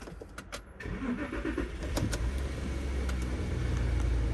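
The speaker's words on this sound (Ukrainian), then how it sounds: "Заведемо автомобіль" A 2005 Volkswagen Touareg engine cranks briefly and catches, then settles into a steady low idle rumble, recorded up close.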